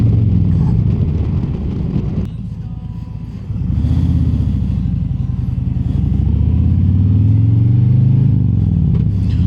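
Harley-Davidson Street Glide Special motorcycle cruising on a country road, a steady loud engine rumble that dips briefly then swells as the bike accelerates, continuous throughout with no talk.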